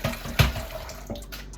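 Water splashes and sloshes briefly as makeup brushes are dipped and wetted in a small bucket, a loud close burst followed by softer trickling, with no talking.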